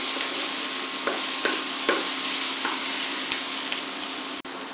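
Chopped onion and tomato fry in a pan, giving a steady close sizzle with a few soft clinks of a stirring spoon and a brief break near the end.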